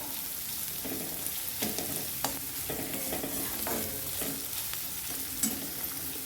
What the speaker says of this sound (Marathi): कांदा पण छान परतून द्यायचा आहे छान गोल्डन कलर आला पाहिजे कांद्याचा